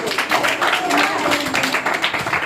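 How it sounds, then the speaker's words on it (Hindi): Schoolchildren in a classroom clap loudly together after a school program, a dense, even burst of applause that keeps going through the whole moment, with some voices mixed in. "एक बार जोरदार तालियां बजाइए"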